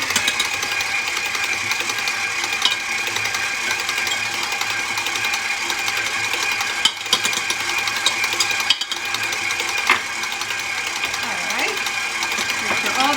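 An electric mixer runs steadily while beating Italian Easter bread dough with butter worked in, a continuous whirring drone throughout with a few brief knocks near the end.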